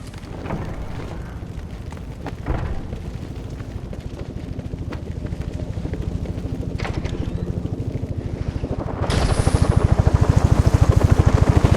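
Helicopter in Batman: Arkham Origins, with steady rotor chop throbbing close and loud throughout and swelling louder near the end, with no talk.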